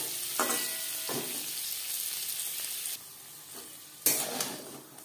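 Paneer cubes frying in hot oil in a pan, a steady close sizzle broken by a few brief scraping and clattering bursts as the pieces are stirred and turned over.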